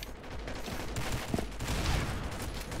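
Rapid gunfire from a UMP submachine gun and other weapons in the shooter game Combat Arms, dense and continuous with a few sharper nearby shots standing out over the busy match noise.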